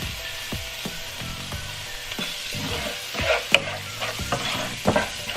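Onions frying in oil with spices being stirred in for Saudi kabsa, a steady sizzle broken by repeated scraping strokes of a spoon against the pot, close and moderately loud with no talking.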